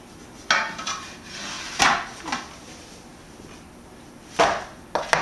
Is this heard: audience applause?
no